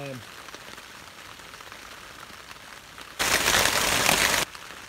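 Torrential rain pelts a tarp over a boat tunnel tent, a steady hiss that suddenly swells into a loud, dense downpour for about a second before easing back.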